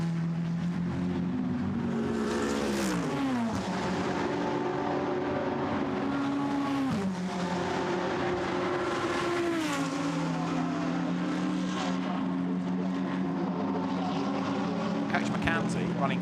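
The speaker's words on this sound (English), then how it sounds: "There he is at the back of the shot in the green Lamborghini, closing on Strukov" GT race cars in the Blancpain GT Sports Club at Monza, including a green Lamborghini, roar continuously with rising and falling engine pitch and gear shifts, under steady race commentary.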